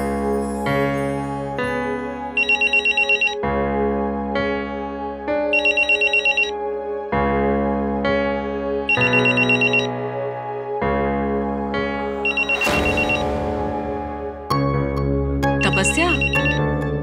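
A melodic mobile phone ringtone plays in a repeating pattern, loud and close, with bright chiming notes recurring throughout.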